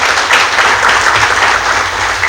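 An audience at a book launch event claps loudly and continuously, a dense wash of applause that holds steady throughout, close and with no voices over it.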